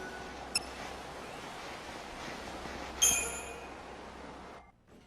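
Ambient station noise from a train platform in the video game Lightning Returns: Final Fantasy XIII, a steady low rumble with a brief click early on and a bright metallic screech midway before it fades out.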